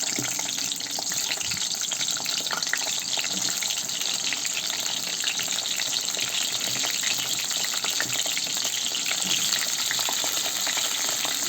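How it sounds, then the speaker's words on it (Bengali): Food-coloured potato pieces fry in hot oil for beef biryani, giving a dense, loud, continuous sizzle and bubbling crackle that runs unbroken throughout, with no talk. "আলুগুলো ভেজে নিই। আমি একটু ফুড কালার দিয়ে দিয়েছি আলুতে।"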